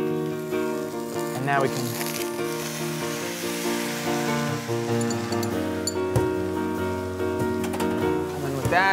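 Bok choy stir-fries in a hot pan with a continuous loud sizzle and crackle, with a few clanks of a utensil stirring and a person talking over it.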